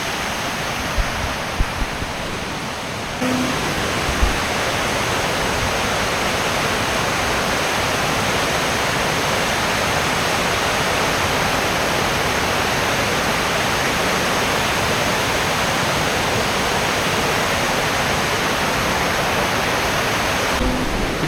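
The Chamadka waterfall near Sullia rushes in a loud, constant roar of falling water, unbroken and close for the whole stretch.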